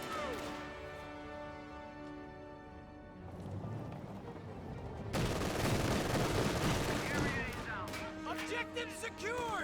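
Battle gunfire in the real-time strategy game Company of Heroes 2, with a Stuart tank firing on a Grenadier squad: dense, continuous shots and rumbling explosions layered over a background score, while a voice speaks briefly.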